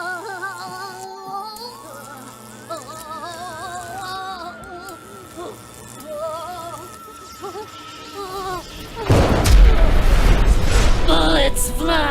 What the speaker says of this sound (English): Bullets fly, guns blaze